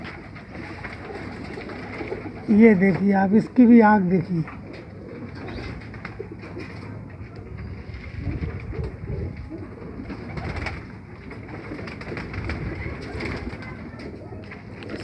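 A female pigeon coos in a short run of throaty calls close by. Someone talks over the calls and keeps talking after they stop.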